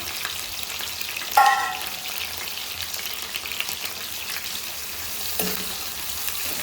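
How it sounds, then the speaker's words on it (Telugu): Dried fish frying in hot oil, a steady close crackling sizzle throughout with a sharp spatter burst early on and another flare near the end, no voices. "ఫస్ట్ అయితే ఆయిల్ కాగింది ఈ ఎండి చేపలు వేపుకుంటూ మాట్లాడుకుందాం మనం"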